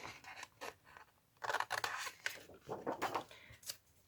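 Scissors snip along the inside of a paper frame for a handmade spinning tag, a series of short, crisp cuts in uneven bursts with quiet pauses between them.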